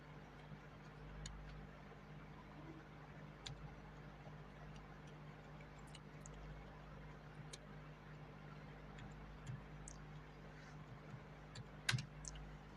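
Sparse, faint keystrokes on a computer keyboard, scattered irregular clicks over a steady low hum, with a slightly louder cluster near the end and no speech.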